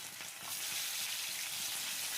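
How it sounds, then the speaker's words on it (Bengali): Chopped onion frying in hot oil in a pan, the first step of a prawn and taro-flower fry, gives a steady, dense, close sizzle with no talk over it. "তেল গরম দিলি, পেঁচিয়ে দিবি, লাড়ি দিই, পেঁয়াজটা ভাজা হোক"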